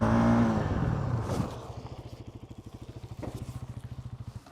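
A motorcycle finishing a soft-landing stoppie: the engine note drops from a rev to a close, steady idle, throbbing in even rapid pulses with no voices.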